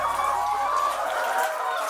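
Several chickens cluck and chatter close by while being fed maggots, a busy overlapping flock noise over a brief moment.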